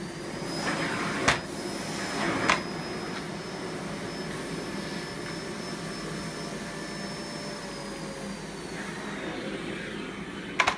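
A Miele Blizzard CX1 Comfort bagless vacuum cleaner runs steadily on its high setting, a loud continuous whine with a high-pitched tone, broken only by a couple of brief knocks.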